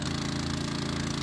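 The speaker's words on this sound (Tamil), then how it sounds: "ஒரு பெட்ரோலில் இறைக்கக்கூடிய ஒரு இன்ஜின் வந்து இந்த அளவுக்கு தண்ணி கொடுக்குது, வைப்ரேஷன் ரொம்ப கம்மியாக தான் இருக்குது" A 6.5 hp petrol water pump engine runs steadily and close, a continuous throbbing drone with an even, fast pulse and no talk over it.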